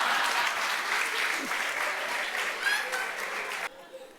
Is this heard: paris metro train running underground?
no